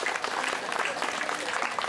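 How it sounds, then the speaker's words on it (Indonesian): Audience applause for gamelan musicians at a Balinese drama gong performance, a dense, steady wash of many hands clapping close and loud throughout the short moment, with no distinct talk. "tepuk tangan penabuh hebat."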